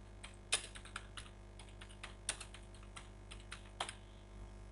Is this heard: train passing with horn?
no